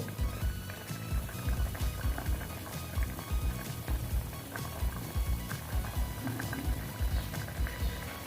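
Green mango chutney bubbling in a pot as it boils, a steady busy simmer with frequent soft pops and bursts, close and moderately loud throughout.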